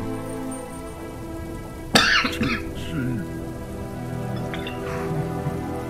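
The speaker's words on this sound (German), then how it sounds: "Da muss ich husten." A single sudden cough rings out close by, followed by softer throat sounds over a quiet, steady background hum.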